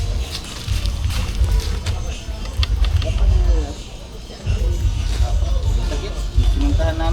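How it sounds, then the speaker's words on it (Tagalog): Weak boat engine sputtering and coughing, low rumbling chugs that surge and dip unevenly, with water sloshing nearby and people talking over it. "Inuubo-ubo ang makina. Mahina pa makina."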